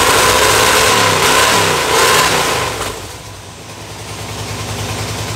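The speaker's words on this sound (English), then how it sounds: "Sounds like a big block." An old classic car with a big-block engine revs hard and loud at close range, then drops back to a rough, lumpy idle.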